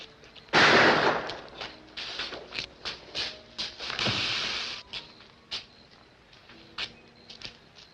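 A movie shootout scene: one loud blast, then a rapid run of sharp gunshots that fades into scattered, quieter shots. No talking.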